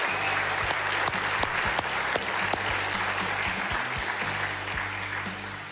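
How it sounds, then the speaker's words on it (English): Sustained audience applause at a live business-community event, steady dense clapping filling the room from start to finish and tapering slightly toward the end, with no talk over it. "A big round of applause for Mike Serto and Fairway Mortgage"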